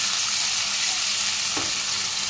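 Water poured into a hot frying pan while cooking chana dal, hissing and sizzling steadily throughout with a brief burst midway, no voices.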